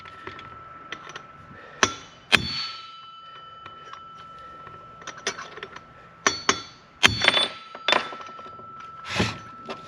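A hammer strikes a punch set against the clutch of a Stihl 194T chainsaw, producing several sharp metallic clinks and taps in irregular bursts, close by amid quieter handling rattles.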